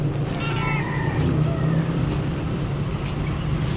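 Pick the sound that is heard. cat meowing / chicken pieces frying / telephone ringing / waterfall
cat meowing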